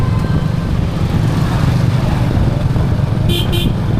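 A CF Moto 300SR motorcycle rides along a village road in Bangladesh, its engine droning loud and close with steady road rumble, and two short horn toots near the end.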